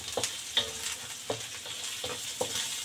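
Crab stick with garlic and ginger stir-fried in a pan: soft continuous sizzle with several sharp scrapes and clacks of a utensil against the pan, close and fairly quiet.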